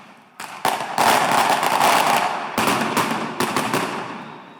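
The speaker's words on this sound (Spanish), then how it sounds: "a mí me encantan los cohetes" Firecrackers exploding, a loud, dense barrage of rapid crackling bangs that rolls on for several seconds with brief gaps before further volleys.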